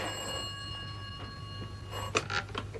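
An old telephone bell rings in bright, metallic bursts near the end, over a low steady background hum in a quiet room.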